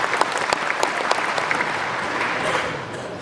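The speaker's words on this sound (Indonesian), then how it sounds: "kasih tepuk tangan buat beliau" Audience at an Indonesian religious talk applauding in Korea, with dense hand clapping and a few sharper claps standing out over steady crowd noise throughout.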